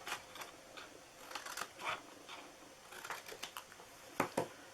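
Scissors snip through paper while a triangle treat box is made, quiet irregular cuts and rustles close by, with a sharper pair of snips near the end and no talking.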